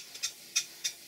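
Stuart Major model beam steam engine running after its parallel motion was adjusted: quiet, crisp ticking beats in an even, regular rhythm like a clock, heard close with no talking.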